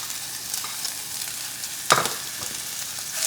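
Onion and roasted, peeled poblano chile strips sauté in hot oil with a soft, even sizzle, broken by one sharp scrape of a stirring utensil midway; no talk.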